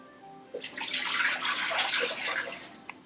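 Hot water pours in a steady splashing stream at a Hong Kong street food stall, starting abruptly after a quiet moment and trailing off with a last drip.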